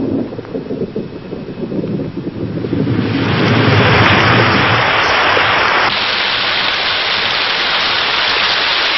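Heavy rain pours down during a rainy season in the wild, starting as a softer patter with gusty wind and swelling into a loud, dense, continuous downpour.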